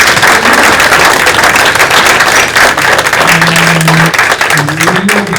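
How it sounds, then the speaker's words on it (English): A science café audience in Concord, New Hampshire, breaks into loud, dense, continuous applause, with a faint hum of crowd voices running underneath. "will you give them a round of applause?"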